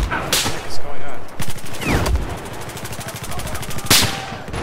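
Rapid automatic gunfire rattles in Battlefield 4, close and loud, with sharp bursts and a sustained stream of shots amid a few heavy blasts.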